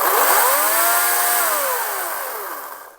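A battery chainsaw spinning up after a trigger pull, its high motor whine rising and then slowly falling away as it winds down, loud and close, with no talking.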